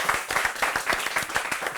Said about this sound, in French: Yati Yati, on applaudit encore Yati Yati très fort.